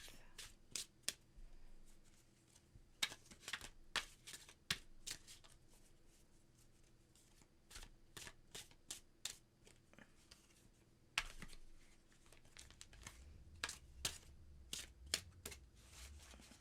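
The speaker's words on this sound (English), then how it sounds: "Cut the deck one more time." A deck of tarot cards shuffled and cut by hand, with repeated sharp riffling snaps and soft card slides in irregular bursts, close and clear against a quiet room.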